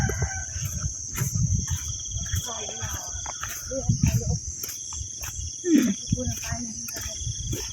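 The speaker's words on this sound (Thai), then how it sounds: "ไก่กำลังคัน" At dawn in rural Thailand, a rooster crows a few times at a distance among insect chirps, while people talk quietly nearby.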